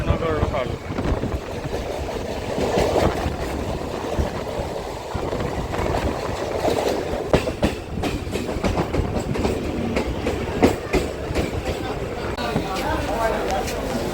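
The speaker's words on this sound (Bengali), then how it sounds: "ট্রেন আমাদের চলা শুরু করেছে" A Krishnanagar local train rolls along the rails with a steady rumbling clatter and rhythmic clickety-clack of the carriages, loud and close from inside the moving train.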